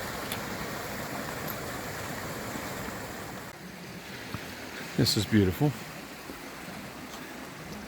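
A creek at Cottonwood Campground in the Grand Canyon gives a continuous broad rushing wash of flowing water, steady and fairly close, while a person speaks briefly over it.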